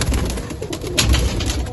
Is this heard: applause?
no